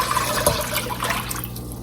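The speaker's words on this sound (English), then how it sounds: "I'm going to add into it this is 8 cups of water" Eight cups of water pour into a medium stock pot in a steady, splashing gush, close and fairly loud, with no talk over it.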